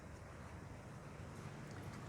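Soft, continuous wash of sea waves by a wharf with fishing boats, a faint low rumble mixed with wind noise, distant and without voices.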